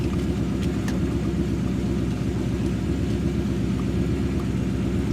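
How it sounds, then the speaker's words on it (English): A 1988 Chevrolet Silverado truck engine idles steadily with the key off, a low, even rumble running continuously and fairly close throughout. "keys off, right? Truck's running."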